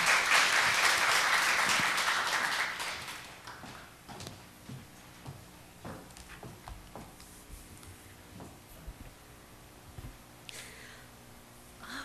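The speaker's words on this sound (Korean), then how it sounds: "우리 박수로 환영하겠습니다" A church congregation applauds to welcome a speaker, with a burst of dense clapping that fades after a few seconds, leaving scattered soft knocks, shuffles and a few isolated claps in a quiet hall.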